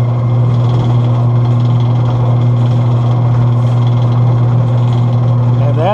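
A Boice Crane bandsaw motor running at low speed, a loud steady hum with a strong low drone held evenly throughout, close by and with no talk.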